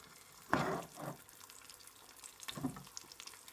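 An egg frying in a pan gives a soft background sizzle, broken by two louder clattering bursts near the start and again later.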